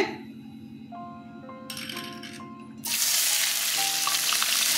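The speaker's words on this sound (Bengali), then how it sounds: "তেল গরম হয়ে গেছে, পেঁয়াজগুলো ছেড়ে দিচ্ছি।" Onions dropped into hot oil in a home kitchen for a dried-fish bharta, starting with a few clinks and stirring before a loud, steady sizzle bursts up and continues close by.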